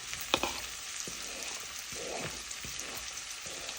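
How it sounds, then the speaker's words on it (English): Ingredients saute in a small skillet with a soft, faint sizzle, punctuated by a few light scrapes and taps of stirring. "going to let those all saute and marry"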